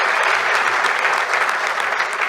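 An RCM business gathering in Noida fills with steady, dense applause from a large seated audience, loud and continuous throughout without pause.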